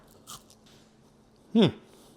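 Crispy air-fried Costco french fries bitten and chewed close up: a faint crunch early on, then one sharp, loud crisp bite, with quiet chewing around it.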